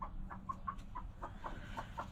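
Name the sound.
hen clucking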